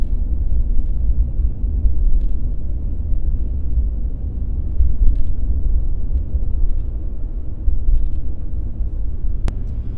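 A Ram 1500 pickup with a Borla S-Type exhaust cruises in 7th gear at about 40 mph and low revs, giving a steady, loud low rumble with no other sounds.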